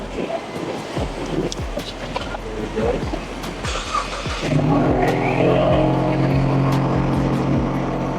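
A Toyota GT86 with an aftermarket intake and cutback exhaust idles, then revs into a louder, sustained engine drone, close by, with brief clicks and sparse background voices.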